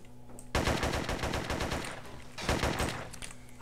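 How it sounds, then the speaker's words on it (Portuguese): Rapid automatic gunfire in the SA-MP Call of Duty 5 multiplayer server game, two sustained bursts of close, loud shots separated by a brief pause, each burst a fast rattling stream. "Sai vários tiros."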